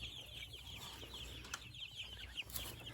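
Dense, steady clucking and chirping from a flock of about 54 Rainbow Ranger chickens inside a chicken tractor, close and continuous with a few sharper calls.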